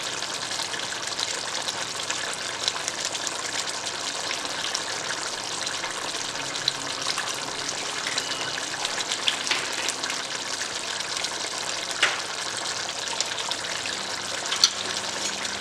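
Water poured steadily into a pan of chicken curry on the stove, a continuous close gushing splash that holds at an even level throughout with no talking.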